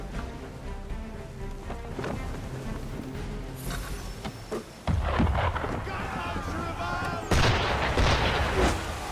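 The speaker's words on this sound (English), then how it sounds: "Why is he shooting at us?" Cannon fire from an enemy ship in Assassin's Creed 3 on the water. Several deep booming shots land at intervals, and two heavy blasts and crashes stand out later. A voice speaks between the shots.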